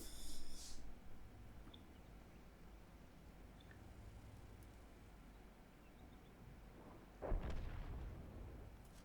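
A B-C 155 55 self-propelled artillery gun fires in a video game: one deep, heavy boom near the end, preceded by a long stretch of low rumbling ambience and a brief faint crackle at the start.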